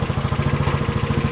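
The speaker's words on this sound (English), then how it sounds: "starts right up, no problem." A SYM Allo 125 scooter engine runs at a steady idle, its rapid, even pulsing close and loud throughout with no talk over it.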